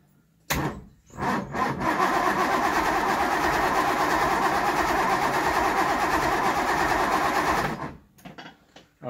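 A jump pack cranks the engine of a 1964 Triumph 2500 barn-find saloon in a loud, steady, churning run of about seven seconds that does not catch, framed by clicks and near-silence.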